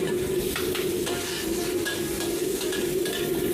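Garlic and petai squid sizzle steadily in hot oil in a pan, with a continuous close crackle and occasional stirring scrapes, no voices.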